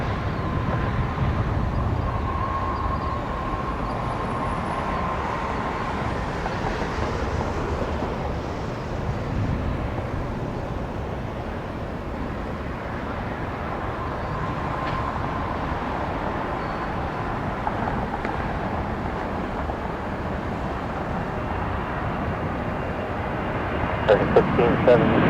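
An airliner taking off from runway 3 left at Detroit Metro Airport gives a loud, steady broadband engine roar with some wind buffeting that lasts the whole stretch, heard from nearby outdoors.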